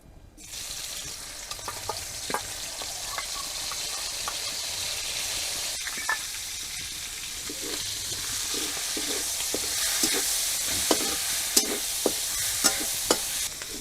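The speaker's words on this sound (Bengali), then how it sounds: "কড়াইতে অল্প তেল দিয়ে দিলাম চিংড়ি মাছটা ভেজে নেব" Prawns fry in a little oil in a wok, giving a steady close sizzle with scattered crackles and pops that grow sharper toward the end, with no talking.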